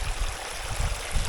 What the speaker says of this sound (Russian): Тут ручеек.